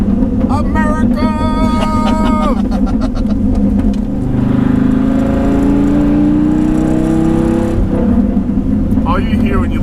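A Dodge Viper truck engine revs and drones loudly as it accelerates and shifts, with rising engine tones, then eases off into rough exhaust burble under a voice.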